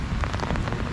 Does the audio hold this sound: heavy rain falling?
yes